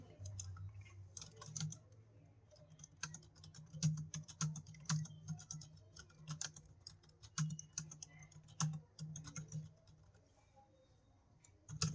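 Quiet, close computer keyboard typing while editing text in a sales funnel page builder, with uneven runs of soft key clicks and brief pauses over a faint low hum.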